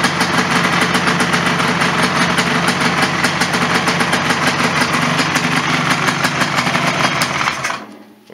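A 1996 Polaris Sportsman ATV engine runs steadily right after a carburetor repair, a loud, close, buzzing idle with a rapid even firing pulse that holds throughout before cutting off abruptly near the end.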